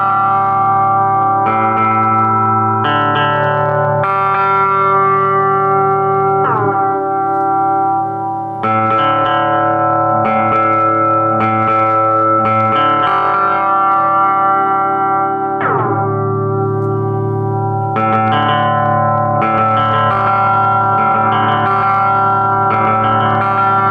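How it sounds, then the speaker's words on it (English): A Fender Champion 20 practice amp plays sustained guitar chords through its delay and reverb effect, loud and washy, with a repeating chord pattern whose echoes ring out and blur between changes. "there's another stage to the delay and reverb"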